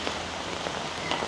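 Rain falls steadily on surfaces during a week of repeated typhoons in the Philippines, a brief, even hiss of dense drops with no voices.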